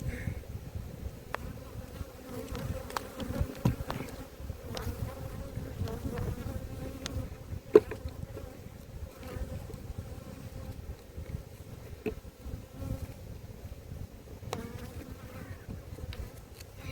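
A dense, steady hum of many bees buzzing, low and continuous, with occasional louder individual insects flying close by.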